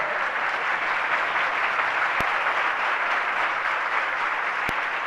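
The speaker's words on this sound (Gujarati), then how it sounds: "હવે ફરતી તાળી પાડો." Steady, thick applause fills the hall at a Guru Purnima festival gathering, a loud continuous wash of many hands clapping with two sharp isolated clicks standing out.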